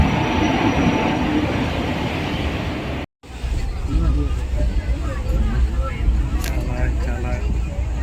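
A train on the line from Thanjavur toward Mandapam rumbles steadily and loudly with rattling wheel noise, broken by a brief gap, while people talk over it.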